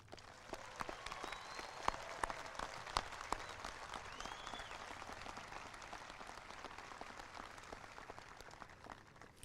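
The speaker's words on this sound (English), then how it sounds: "please join me in a round of applause." Applause from a graduation ceremony audience at Waynesville High School, steady and moderately distant with a few sharper claps standing out, fading slightly toward the end.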